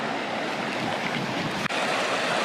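A restored creek in Kelowna, where kokanee salmon spawn, rushes steadily and loudly up close as a dense, even wash of water noise, with one brief dropout near the end.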